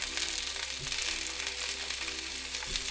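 Vegan meatballs fry in butter as they are rolled around a pan, producing a faint, even, hissing sizzle with a couple of brief low bumps.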